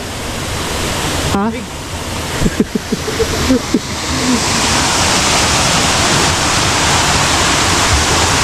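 Kakawayan Falls in Infanta, Quezon roars as a loud, steady rush of falling water, with a few brief voices and a short exclamation early on before the torrent fills everything alone.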